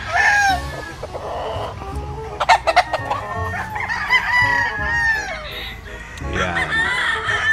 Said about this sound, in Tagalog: Ganda ng mga manok nila. Ito yung mga ibang mga manok nila.